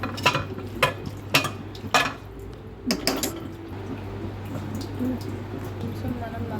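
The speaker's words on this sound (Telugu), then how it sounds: "కొన్ని వాటర్ పోసుకుంటూ కలుపుకోవాలి" Masala curry of flat beans is stirred in a pan as water is added, with a run of sharp spoon-on-pan scrapes and clinks, then a softer wet stirring under a steady background hum while a person talks.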